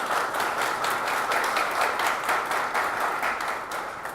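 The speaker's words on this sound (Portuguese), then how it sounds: "Eu peço uma salva de palmas a ela, que ela merece." Audience applause at an agronomy event, a steady wash of clapping from a seated crowd that holds evenly and thins slightly toward the end.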